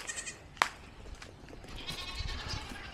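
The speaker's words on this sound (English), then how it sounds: "Come on, goat." A goat bleats faintly outdoors, a brief sharp cry rising above quiet rustling and low background noise, followed by softer, more distant bleating sounds.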